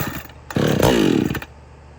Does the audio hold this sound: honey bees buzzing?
no